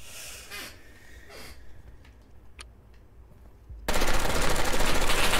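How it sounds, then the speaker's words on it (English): Gunfire in the video game SCP Pandemic: a few scattered shots, then a dense, loud stream of rapid automatic bullets that bursts in and fills the last seconds. "Did you see that stream of bullets?"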